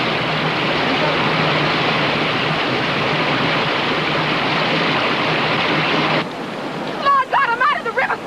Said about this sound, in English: White water ahead! Keep the boat pointed forward!